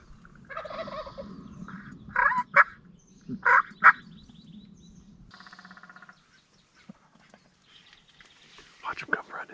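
A wild turkey gobbles in rough bursts during a turkey hunt, fairly close, with pauses between them and hushed voices between the calls.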